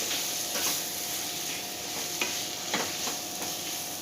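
Chicken roast with Eastern chicken masala is stirred in a pan: a soft continuous sizzle broken by several quick spoon scrapes, close and moderately loud, with no talk.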